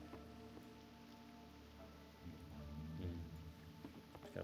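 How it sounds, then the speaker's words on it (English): Rain falling in World of Warcraft Classic during fishing, a quiet steady patter of drops on surfaces with faint ambient game sounds underneath. "I like this rain. It's nice."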